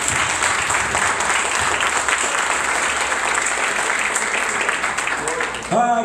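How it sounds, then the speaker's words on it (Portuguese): Congregation applauding in a church service, a steady dense wash of clapping from many hands that fills the space, loud and continuous, fading slightly near the end. "Se você crê nessa palavra, aplaude o nome do Senhor Jesus."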